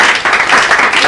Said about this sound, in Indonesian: Tepuk tangan dong buat ini